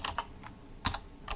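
Typing on a computer keyboard, a few close, crisp key clicks in short irregular bursts with brief pauses between them.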